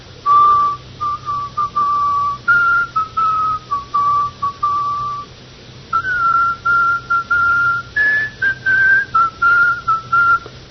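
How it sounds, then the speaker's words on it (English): A man in an old radio drama whistles a slow, mournful funeral dirge tune alone. The phrases are clear and close, with short breaks between them. "He's always whistling to himself. And he whistles the same tune over and over again."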